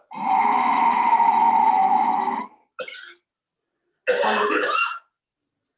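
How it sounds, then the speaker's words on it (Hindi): A long, harsh throat-clearing rasp from a sore throat during a breathing exercise, then a short catch and a second rough cough-like clearing, followed by silence. "करते समय खांसी आ सकती है क्योंकि गले में खराश होती है।"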